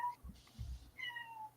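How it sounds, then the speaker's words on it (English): A cat meows faintly twice, short tonal calls at the start and end of a brief quiet moment, with soft low bumps in between and no talking. "Somebody's meowing."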